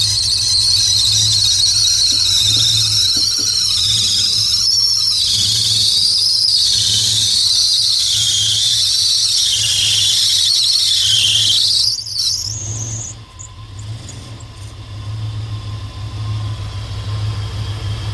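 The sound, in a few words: squealing from an old truck's engine, likely a bad alternator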